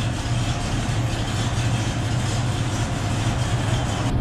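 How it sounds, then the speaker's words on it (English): A 1967 Ford Mustang engine runs at a steady idle with a newly replaced power steering pump, giving a continuous low rumble close by with no talk over it. "So now the engine's running."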